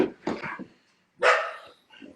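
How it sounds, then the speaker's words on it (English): Two small dogs play fight close by, trading short growly barks and yips in a few quick bursts separated by a brief pause. "There's two dogs play fighting."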